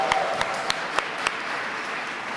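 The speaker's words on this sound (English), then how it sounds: "Clap it up for the art today" A handful of sparse, separate claps from an audience at a poster contest award event ring out over a quiet room, then fade into near silence.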